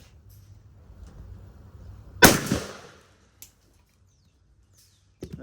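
A single sharp blast from a Mossberg 935 12-gauge shotgun firing a 3.5-inch Federal Heavyweight TSS tungsten shell outdoors at the range, a loud crack with a short rolling echo, then quiet with a faint click and another thump.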